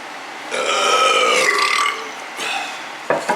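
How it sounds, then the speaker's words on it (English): A long, drawn-out burp rolls for about a second and a half, loud and close, followed by a shorter, softer second burp and a brief clatter at the end. "That was a good burp."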